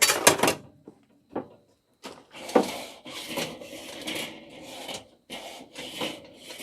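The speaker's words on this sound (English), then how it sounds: "let me scrape the top a little bit here" Metal scraper rasping across the top grate of an outdoor BBQ grill under a lean-to, several close, harsh scraping strokes separated by short pauses.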